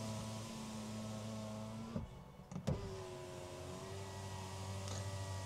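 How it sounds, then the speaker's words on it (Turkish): A TOGG T10F power window motor whirs steadily as the glass lowers fully, stopping with a brief clunk around the middle before a second, slightly higher motor hum carries on to the end. No voices. "Camın maksimum açılma seviyesini size göstereyim."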